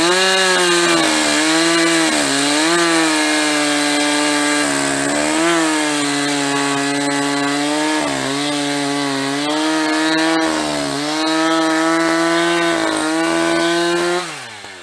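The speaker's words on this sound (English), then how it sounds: "I am going to try my hand at a little bit of chainsaw art." A chainsaw carves wood for chainsaw art, its two-stroke engine running steadily and close throughout, the pitch rising and dipping repeatedly as the throttle opens and eases, with no talking.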